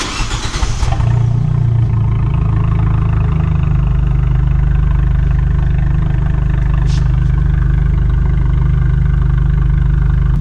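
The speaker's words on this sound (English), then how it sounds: "Let's hear now the warm start, the 695" Abarth 695 XSR warm start: a brief sharp cranking burst as the engine catches and revs, then settling into a loud, steady, deep idle that rumbles evenly for the rest of the clip, close to the car.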